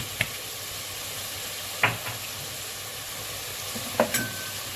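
Curry powder, cinnamon and ginger powder frying with tomatoes in a pot, a steady low sizzle broken by a few sharp knocks and scrapes of the spoon stirring, plus a brief high squeak near the end.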